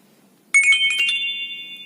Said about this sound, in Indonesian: nada tanda ini biasanya singkat-singkat karena memang digunakan untuk nada SMS